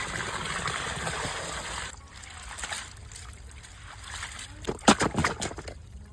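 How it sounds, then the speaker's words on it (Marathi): Water sloshes and trickles as sprouted moth beans are rinsed in clean water in a container, with splashy bursts near the end; steady background noise throughout. "पण आता उसळ धुवून घेऊ स्वच्छ पाण्याने।"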